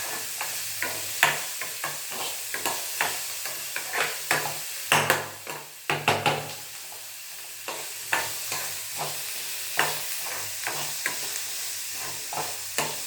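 Chana dal being dry-roasted in a pan for chutney: steady repeated scraping and stirring strokes with a soft continuous sizzle underneath, close and moderately loud, no talking.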